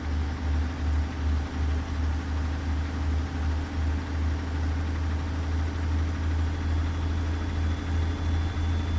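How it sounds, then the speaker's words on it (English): A truck engine in American Truck Simulator idles and runs with a steady low rumble and drone, loud and continuous with no talking. "Oh, it sounds so good. I love the engine sounds."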